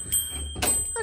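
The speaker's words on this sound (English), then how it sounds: "you'll know the sound of that bell very well." A studio door bell rings, two bright metallic strikes in about a second, fairly close and heard alone.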